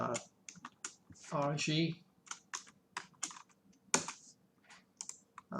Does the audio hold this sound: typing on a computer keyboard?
yes